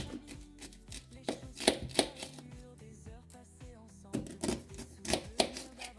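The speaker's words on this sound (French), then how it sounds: "dans un premier temps, je vais couper mon oignon." A knife chops an onion on a cutting board in a home kitchen, with a rapid run of sharp close knocks in bursts and a brief slower pause midway.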